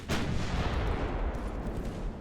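A battleship's secondary guns firing in Ultimate Admiral: Dreadnoughts, a sharp heavy blast opening a dense rumbling roll of further shots, loud and close.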